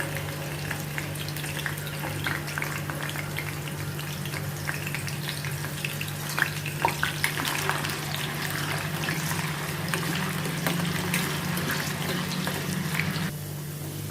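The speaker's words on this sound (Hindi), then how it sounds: "अभी इसी में मैं ये आलू अभी फ्राई कर लेती हूँ।" Potatoes fry in hot oil in a kadai, a steady, loud, dense sizzle with crackling and occasional stirring scrapes throughout.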